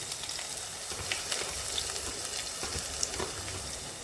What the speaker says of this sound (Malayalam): വെളുത്തുള്ളി ഇഞ്ചി ചെറുതായിട്ടൊന്ന് മൂക്കട്ട.